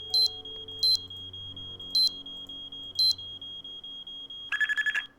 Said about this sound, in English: the alarm sounds different somehow.